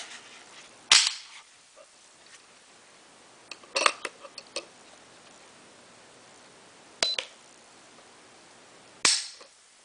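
The trigger of a Smith & Wesson 22A pistol dry-fires during a pull-weight test, giving a few sharp, close metallic clicks spaced seconds apart, with small handling clicks clustered around one of them.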